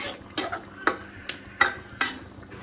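Potato curry stirred and fried in a pan, a spatula scraping in five or six sharp, evenly spaced strokes over a steady close sizzle.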